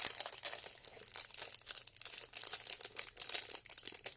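Plastic packaging around a two-part silicone flower mould crinkles and crackles up close in a continuous, uneven rustle as it is opened.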